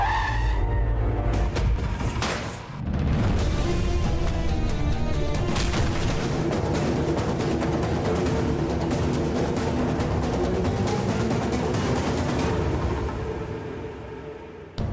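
A car braking to a stop with long, loud tire skidding and squealing that runs for several seconds over engine noise, then fades out, with no talking.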